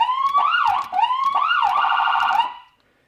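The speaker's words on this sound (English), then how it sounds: "I can actually run dual tone with these sirens" A police siren sweeps up and down in loud, close wailing tones, switching patterns partway through before cutting off abruptly.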